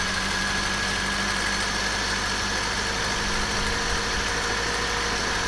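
A 1974 BMW E12 520, left unused for ten years, idles roughly with an uneven, lumpy rhythm, steady and close, with no talking.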